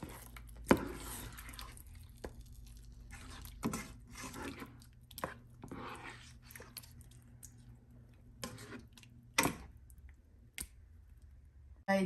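A spatula stirs palak chicken gravy in a pan with a little water added, giving quiet, intermittent scrapes, clicks and squishy taps at an uneven pace.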